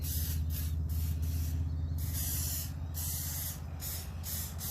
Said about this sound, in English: let's get our skillet going. I think it's warm enough. Give it a good spray.